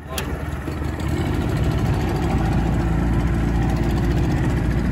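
A cheap used four-wheeler ATV engine running after repair, a steady close mid-low idle with rhythmic chugging that rises slightly in level after the first second and holds evenly throughout.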